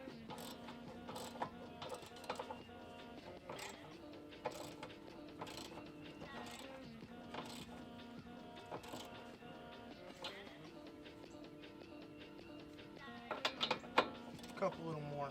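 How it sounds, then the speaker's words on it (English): A ratchet wrench clicks repeatedly during car suspension work on a ball joint, a steady run of quick mechanical ticks in short bursts over a faint background hum, with a voice speaking at times. "That's a ratchet in my shim."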